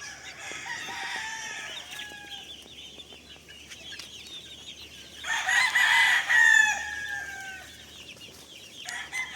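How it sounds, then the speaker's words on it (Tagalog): Chickens and young chicks in a small backyard coop cluck and cheep nearby, with a loud rooster crow rising midway through before the calmer clucking returns. "Dito sila namamalagi itong mga sisiyo ko"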